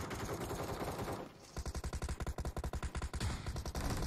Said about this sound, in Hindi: भाई इतना ज्यादा फायरिंग हो रही